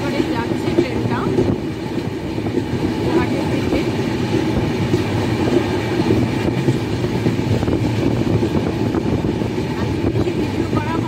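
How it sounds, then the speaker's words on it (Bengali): The Saraighat Express rumbles out of New Bongaigaon station with a loud, steady roll and rattle of wagons on the rails, and a voice speaks briefly over the noise. "নিউ বনগাইগাঁও ছেড়ে এবারে যাচ্ছে ট্রেনটা"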